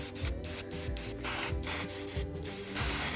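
Short bursts of an aerosol spray can spraying a rust-effect coating onto metal, several quick hissing pulses in a row, close and fairly loud, with no voices.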